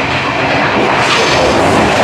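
Steady broadband rumble of a train running on rails, heard from inside the carriage on a journey to Colombo, loud and continuous with no talk.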